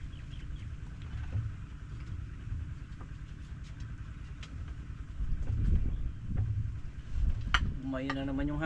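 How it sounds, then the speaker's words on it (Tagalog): Wind blows outdoors at a farm with calamansi and bitter gourd plants, making a low, rumbling buffet against the microphone that swells and eases. Voices murmur faintly beneath it, and a few brief chirps rise near the end. "Umayon na naman yung hangin."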